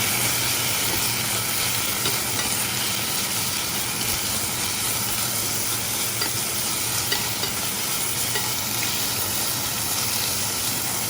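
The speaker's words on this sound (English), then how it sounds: "I'm just going to stir fry this for a little bit." Beef stir fries in a hot pan with a loud, steady sizzle and hiss that stays constant and close throughout, with no voices over it.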